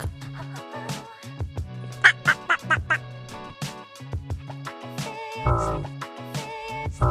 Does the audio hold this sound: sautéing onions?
no